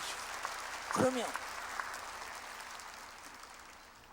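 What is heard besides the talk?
church congregation clapping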